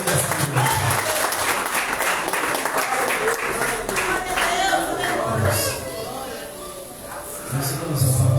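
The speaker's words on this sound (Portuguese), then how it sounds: "E as palmas exaltam e glorificam o nome do Senhor nesta noite" A Pentecostal church congregation claps together during an evening service, a loud, continuous wash of hands with crowd voices and chatter mixed in, swelling slightly near the end.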